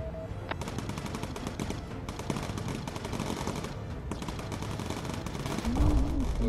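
Machine gun fire in the WWII bomber game Bomber Crew, a dense, rapid stream of shots hammering almost without pause over engine drone, briefly dropping out twice before resuming.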